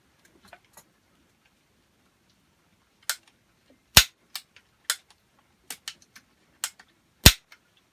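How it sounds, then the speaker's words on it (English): An inline muzzleloader's firing mechanism test-fired with caps: a rapid series of sharp, loud snapping pops, about a dozen in irregular succession, with a couple of faint clicks before. "double check and make sure that your firing pin or your firing device or mechanism within the inline muzzleloader that you have is firing properly"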